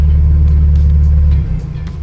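A drift car's engine, stuck in limp mode, runs loud and close with a heavy low rumble that holds steady, then drops suddenly in pitch and volume as the revs fall.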